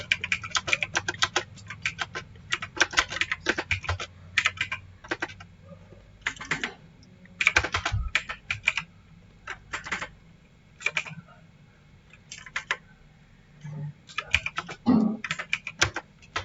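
Steady clatter of keystrokes on a computer keyboard while entering figures into accounting software, coming in quick bursts with short pauses, close and fairly clear, with no voices.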